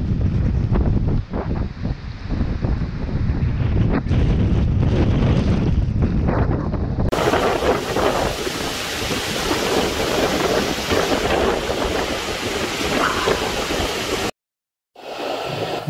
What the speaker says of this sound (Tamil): இந்த வாட்டர் ஃபால்ஸ் கிட்டே வந்துவிட்டோம்.